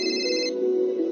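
A phone ringtone plays, a bright electronic melody ringing steadily and close for the whole moment, clear and alone.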